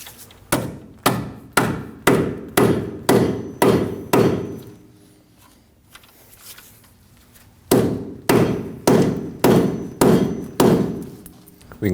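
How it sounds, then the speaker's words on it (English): A dead blow hammer drives a lower ball joint into the control arm of a 2009-2014 Ford F-150: two runs of sharp, evenly spaced thuds, about eight blows each, separated by a few seconds of quiet, close and loud. "you can use a dead blow hammer or some type of soft hammer that won't damage the ball joint"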